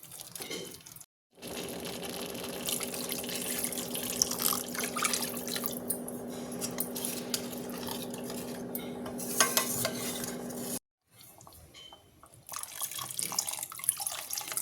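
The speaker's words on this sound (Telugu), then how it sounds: "ఇప్పుడు 1 కప్పు వాటర్ వేసుకుందాం అండి" A cup of water pours into frying masala gravy for kaju paneer masala, then a spoon scrapes and clinks against the metal pan while stirring. It comes through as a continuous close splash and sizzle broken by brief pauses, with no talking.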